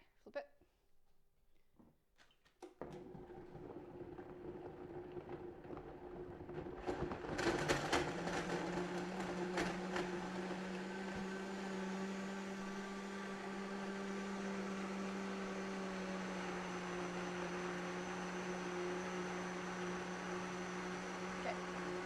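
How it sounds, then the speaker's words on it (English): A blender runs steadily on a chocolate banana smoothie, a sustained whirring hum that climbs and settles into an even drone after a few clicks and knocks. "So I'm going to run the blender, put the lid on it."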